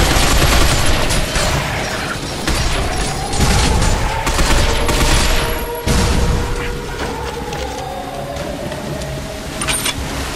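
A powerful energy weapon fires in the shooter game Binary Domain, releasing loud, heavy booming bursts that swell and fade over a steady rumbling battle backdrop, with brief voices mixed in.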